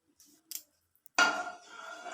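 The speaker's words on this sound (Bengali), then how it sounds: "সাদা তেল দিয়ে দিচ্ছি কড়ায়" White cooking oil is poured into a wok (kadai) on a gas stove while a potato dum dish is being made. A few faint taps and clinks come first, then a sudden close hiss-like wash that settles into a steady, softer pour.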